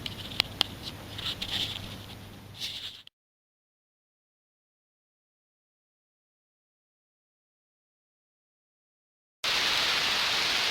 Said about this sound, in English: Oh, we're getting rained out.